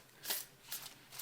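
A deck of oracle cards being shuffled by hand: three quick, soft riffling swishes, close and quiet.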